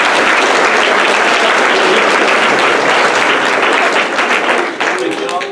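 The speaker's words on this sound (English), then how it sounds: "can you all give our panelists a round of applause?" Loud applause fills a room as an audience claps for panelists at a college honors presentation, a dense continuous roar that eases slightly near the end with voices beneath.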